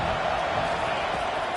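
A packed indoor football crowd roars at full volume during a tense defensive stand, a dense, steady wall of cheering and noise with no gaps.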